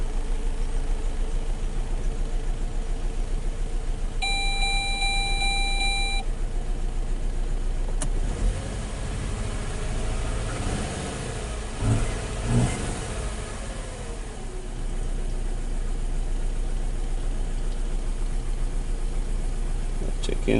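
A car engine, recently rebuilt with a replaced ECM, turns over and settles into a steady idle, with a brief rev partway through and a chime sounding early on.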